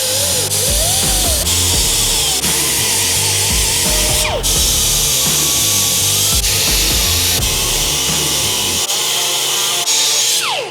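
A power tool grinding down welds on a custom oil tank for a Harley Sportster flat tracker, a loud continuous whining buzz with pitch dips as it bites into the metal, running steadily and close without talk.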